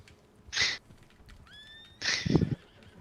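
A horse in a video game whinnies twice in short bright bursts, with a thin electronic tone sliding up between them and a low hoof-like thump near the end, all fairly quiet.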